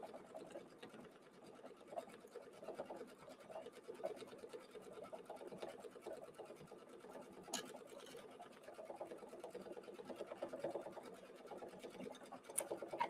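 An embroidery machine stitches a lip design for a DIY envelope and trim, a steady, fast mechanical chatter with fine rhythmic ticking that runs nearly unchanged throughout, close by and moderately quiet, with no talking.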